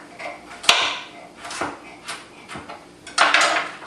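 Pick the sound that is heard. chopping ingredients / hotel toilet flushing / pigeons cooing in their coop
chopping ingredients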